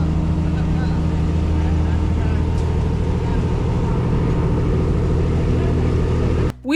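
A Kenyan passenger locomotive on the Nairobi to Nyahururu line moves off to make a U-turn, its diesel engine producing a loud, steady, low droning rumble that holds throughout before cutting off abruptly near the end.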